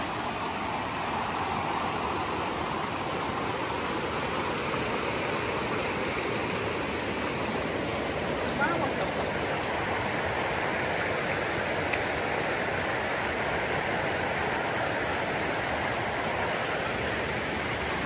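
A river in rural El Salvador rushes steadily, a constant broad wash of flowing water with no pauses and no voices.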